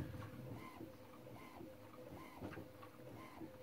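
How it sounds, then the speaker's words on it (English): An inkjet printer runs a sheet of fabric number tabs, giving off rhythmic mechanical whirring and shuttling passes that repeat at a steady pace, close and moderately quiet, with no talking. "Okay, so my second sheet of number tabs is printing."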